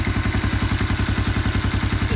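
Suzuki GS400 motorcycle engine idling close by, a steady, even rapid thumping beat with mechanical clatter and no voices.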